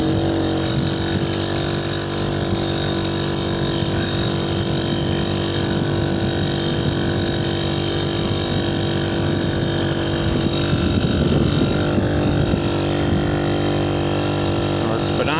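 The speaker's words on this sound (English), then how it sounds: "So even though I'm a little bit large for this moped, we're gonna give it a road test." A 1980 Honda Express II moped engine runs steadily on a road test, a constant small-engine drone with a slight rise in revs near the end, close and loud throughout.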